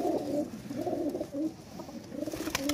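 A Kasoori pigeon coos softly and close by, a few low, throaty rolling phrases repeated in quick succession.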